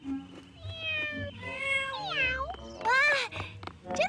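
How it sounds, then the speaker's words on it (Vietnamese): Animated kitten giving repeated high, wavering meows, some drawn-out and rising, close and fairly loud over soft cartoon background music. "Hình như là tiếng mèo kêu."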